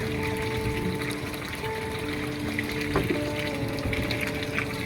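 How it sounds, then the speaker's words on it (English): Water is poured steadily into a self-watering planter made from a pop bottle, a continuous trickling, gurgling fill heard up close with no talking. "I want to water it good here so the wicking action will take place."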